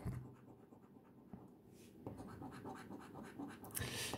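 FDJ lottery scratch cards being scraped with short, rough scratching strokes, close and quiet, in an otherwise silent room.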